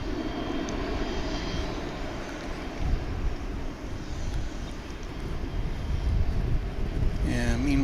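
A Boeing 737-800 on flight 328 at DFW International Airport rumbles steadily with a broad, continuous engine roar, moderately loud and unbroken, with wind noise on the microphone and no voices.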